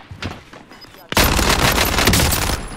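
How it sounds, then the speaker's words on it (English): Gunfire in Call of Duty: Modern Warfare erupts as a sudden loud, dense burst of automatic fire after a moment of quieter sporadic shots, continuing steadily to the end with a voice under it. "Receiving hostile fire"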